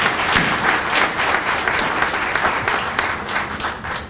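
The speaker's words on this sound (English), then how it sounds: "can we give one more round of applause to them?" Lively clapping from an audience at a county senior volunteer hall of fame event, close and fairly loud with individual hand claps standing out, tapering slightly toward the end.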